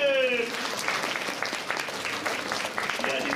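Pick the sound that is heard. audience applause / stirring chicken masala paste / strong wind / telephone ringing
audience applause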